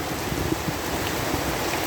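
Heavy rain falls in a dense, continuous roar of broadband hiss, steady and even from start to finish.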